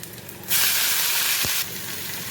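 Chopped fenugreek greens hit a hot pan of fried garlic with a sudden loud, close hissing sizzle that holds for about a second and then drops back to a softer, steady frying sound.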